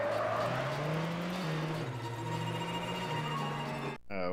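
Honda Civic engine in a driving video game, revving hard as VTEC kicks in, a loud continuous engine whine climbing through stepped gear changes before cutting off abruptly near the end.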